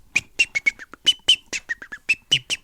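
A person imitates a robin's tut-tut-tut alarm call, giving a rapid series of short, sharp whistled chirps in an uneven rhythm, close and clear with no other sound.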